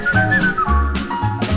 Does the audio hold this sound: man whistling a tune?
yes